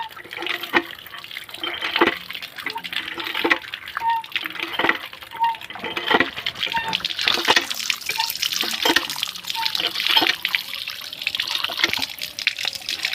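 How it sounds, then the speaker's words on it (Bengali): Fresh green chillies are washed under a running tap, a steady stream of water splashing and trickling at close range with small drips and handling sounds throughout. "খুবই ভালোভাবে ধোয়া হচ্ছে লঙ্কাগুলো।"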